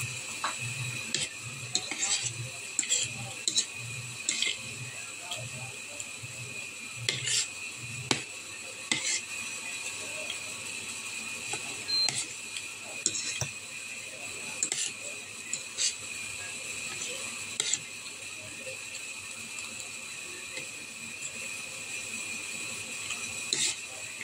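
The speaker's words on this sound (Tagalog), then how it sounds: "Nagluluto si Kurt ng itlog." Eggs frying in a pan, a steady close sizzle with light scraping and tapping of a utensil, a voice talking briefly over it.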